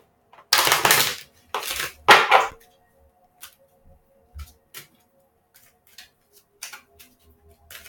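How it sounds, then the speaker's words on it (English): Tarot cards are shuffled in three loud riffling bursts, followed by scattered soft taps and clicks as the deck is settled. "One more shuffle."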